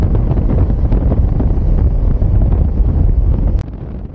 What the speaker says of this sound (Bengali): কি জোরে হাওয়া চলছে।